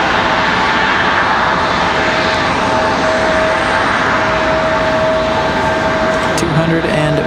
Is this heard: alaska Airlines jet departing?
yes